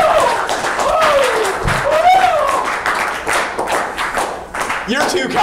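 An audience claps and whoops in a lively burst, loud and close, with voices calling out over the clapping throughout.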